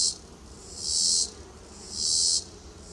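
Honeybees hum around an open hive during a September inspection, with two loud, close buzzing swells of about half a second each rising over a faint background hum.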